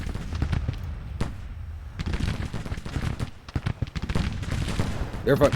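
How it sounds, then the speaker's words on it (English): Canister artillery fire in Grand Tactician: The Civil War, a Civil War battle game: repeated booming volleys and crackling musketry roll continuously through the clip, with a dense battlefield din and a sharper burst of fire near the end. "Took a heavy hit right there with this canister fire"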